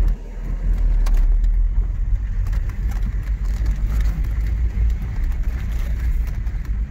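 A 1995 VW Corrado VR6 Storm being driven, its engine giving a steady, loud low rumble with road noise that holds constant throughout, with no talking.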